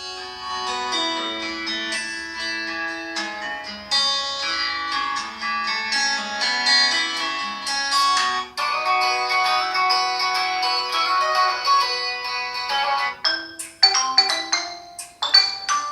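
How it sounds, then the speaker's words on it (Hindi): Redmi Note 10S smartphone ringtones playing through its dual stereo speakers: a bright, melodic electronic tune with layered chimes and synth notes, steady and fairly loud, shifting into quicker plucked notes near the end, with no voices. "कुछ रिंगटोन्स में चलाकर दिखाता हूँ आपको"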